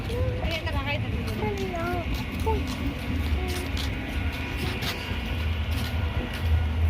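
A night local train runs on the Ranaghat–Gede line with a steady rumble and several high wheel squeals early on, heard from inside a nearly empty carriage while voices murmur faintly.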